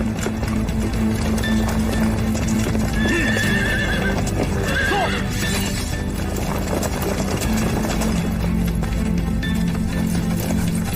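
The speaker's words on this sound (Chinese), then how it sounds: "马蹄声三响一轻，矫正不快，温血马" Warm-blooded warhorses of a southern kingdom's cavalry approach on a road, hooves clopping in a brisk uneven pattern of three heavy beats and one light one, with a horse whinnying midway over a steady, dense background.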